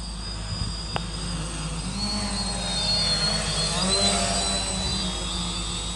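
Small X Cam quadcopter in flight, its propellers giving a steady high-pitched buzz with a wavering whine that rises and falls slightly, close by and continuous for several seconds.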